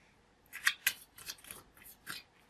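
Golden Girls tarot card drawn from a deck, a few quiet, close papery snaps and slides in quick succession with no talk.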